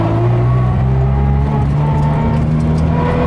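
A VW Polo TSI turbo hatchback on 18-inch wheels runs close by with a steady, loud low engine drone and slight pitch shifts, no voices over it.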